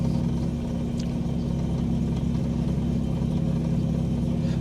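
A Golf Mk1 with a 2.0 8V engine on a standalone ECU idles steadily on a warm day, a close, even low rumble running throughout with no voices.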